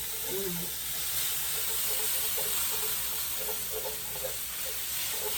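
Garlic sizzles and hisses steadily in a hot pan, a continuous bright frying noise at close range with faint stirring clicks underneath.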